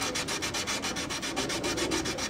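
Steady back-and-forth sanding scratching across rough wood with dried glue globs on a violin, a rhythmic rasping stroke repeated evenly, close and fairly loud with no voices.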